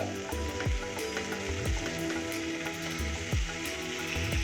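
Katla fish pieces, just flipped, fry on a tawa with a soft, continuous crackling sizzle and a few light pops, fairly quiet and close, with no voices.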